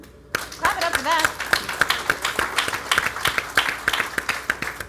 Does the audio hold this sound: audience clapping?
yes